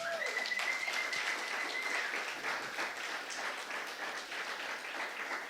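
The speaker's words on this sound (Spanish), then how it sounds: "Denle un aplauso al Señor." A church congregation applauds, steady massed clapping holding at an even level throughout, moderately loud and unbroken with no voices rising above it.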